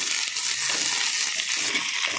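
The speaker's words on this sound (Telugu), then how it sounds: "కరివేపాకు అనేది ఫాస్ట్గానే ఫ్రై అయిపోతుంది" Curry leaves frying in hot oil give a dense, constant crackling sizzle, close and loud, with faint stirring beneath.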